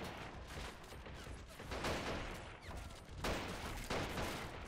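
Massed rifle and machine-gun fire in Men of War: Assault Squad 2 during the Pacific invasion of Borneo: a sustained, rolling fusillade that rises and falls in loud bursts, with no voices.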